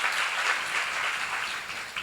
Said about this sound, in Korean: 믿는 사람만 박수 쳐봐요.